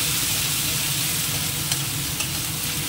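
Cumin and ginger paste sautés in a hot pan, a loud continuous sizzle with occasional light spatula scrapes, close up and with no voices.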